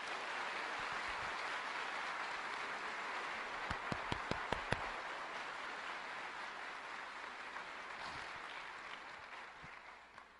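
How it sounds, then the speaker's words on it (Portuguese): A church congregation applauds together in a dense, steady wash of clapping that carries on for several seconds, with a few sharper individual claps standing out midway, heard from some distance in a large room. "das palmas, como forma de agradecimento que nesse momento nós levantamos"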